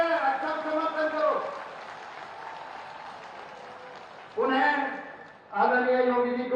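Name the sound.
crowd applauding at a farmers' rally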